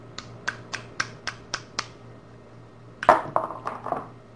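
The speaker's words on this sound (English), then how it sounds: "So I'll have to strip this plastic off" Plastic casing cracked and stripped off a Medeco padlock, series 54 51: seven sharp, evenly spaced snaps, then a louder cluster of crackling breaks near the end.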